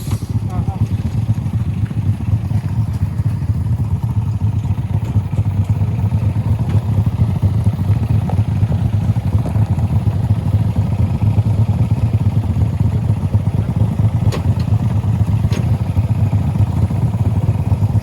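A motorcycle engine idles close by with a steady low hum and light mechanical clatter, holding an even level for the whole stretch.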